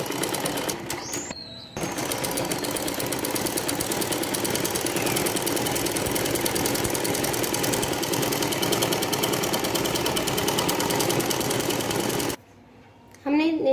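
A sewing machine stitches a two-kali salwar, running in one steady, dense mechanical whir for about ten seconds, with brief pauses before and after.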